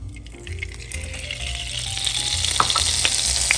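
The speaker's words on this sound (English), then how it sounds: "we're going to put a little bit of butter in a nice hot pan." Butter sizzling in a hot pan before searing lobster tail: a steady close crackling hiss that grows louder and busier over a few seconds, with faint background music and no talk.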